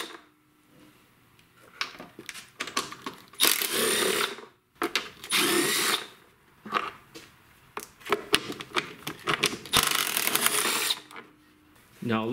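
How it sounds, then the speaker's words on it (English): A 1/4-inch impact wrench spins out 8-millimeter bolts from a Kohler single-cylinder lawn tractor's valve cover in several short, loud, buzzing hammering bursts separated by pauses, with someone speaking quietly between them. "you're going to need to remove the 4 8-millimeter bolts on the side of the cover. And I'll be using my 1/4-inch impact."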